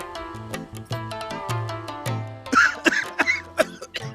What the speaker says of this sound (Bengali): আপনি আগে আপনার কাশি চিকিৎসা করেন